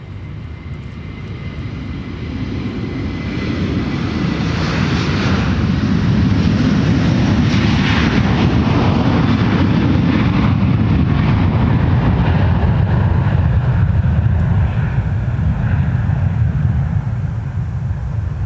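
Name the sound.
Delta 160 Heavy jet airliner taking off to Amsterdam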